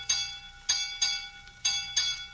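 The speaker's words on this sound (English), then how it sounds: "Silence all ship's bells." A ship's bell rings on a vessel lying still in the fog. Five sharp metallic strikes come at an even, spaced rhythm, each one leaving a ringing tail, and no voices are heard.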